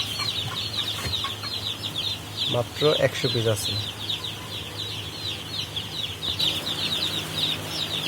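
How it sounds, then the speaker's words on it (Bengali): Young tiger-breed chickens clucking and chirping throughout, with a person talking briefly over the birds. "সুস্থ আছে আমাদের বাচ্চা টাইগার মুরগি"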